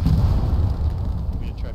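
Artillery fire in Hell Let Loose rumbles as a heavy, low boom that rolls on through the short stretch, loud and dense, with a voice talking over it.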